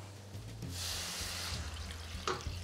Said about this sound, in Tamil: இப்போ நம்ம புளி தண்ணி சேர்க்குறோம்